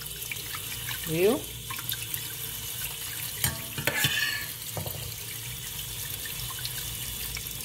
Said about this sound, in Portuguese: Já deixa a torneira aberta. Você coloca dentro da peneira.